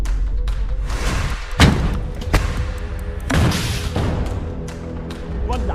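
A rocket launcher fired from a building at a tank produces several heavy thuds and a deep boom over a continuous low rumble, with sharp impacts spaced a second or so apart.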